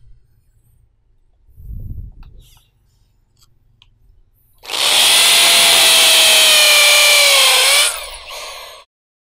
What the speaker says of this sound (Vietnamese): bây giờ mình sẽ khoan tường này. Khoan tường thì em sẽ để qua chế độ khoan tường nhé.